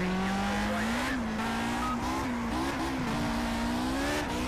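A 1960s Formula 1 car in Project CARS slides at Rouen-Les Essarts, its tires squealing in a sustained wavering howl over a steady, loud engine drone that rises and dips as the car recovers.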